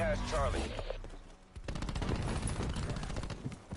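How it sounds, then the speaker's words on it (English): Shotgun blasts in Call of Duty: Black Ops 4 multiplayer combat, a loud burst of gunfire after a short lull, with chatter and game sounds running underneath. "He's using a shotgun, so we good."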